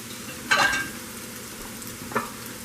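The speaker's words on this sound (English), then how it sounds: "I first put the meat in on a nice medium heat." Rib eye steak meat frying in a pan over medium heat, a steady low sizzle with two brief sharper crackles as it is stirred, close and alone.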